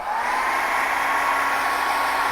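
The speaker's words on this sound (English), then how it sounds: "Now what I'm going to do is take the hair dryer," A hair dryer on its cool setting blows steadily on a coated print, a continuous close whooshing whir with no breaks.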